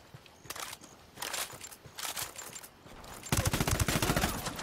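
Bursts of gunfire in Ghost Recon Wildlands, several rapid volleys of shots separated by short pauses, ending in a louder, denser burst.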